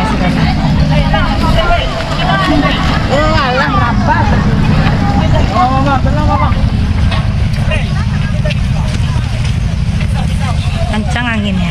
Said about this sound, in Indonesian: kencang anginnya